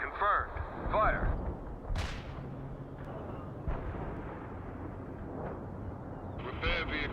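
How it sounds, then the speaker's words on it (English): Heavy artillery fire support in the war strategy game World in Conflict, with distant booming blasts and rumbling impacts spread across a noisy battlefield bed, a voice speaking briefly at the start. "We're set up for heavy fire support. Target confirmed. Fire."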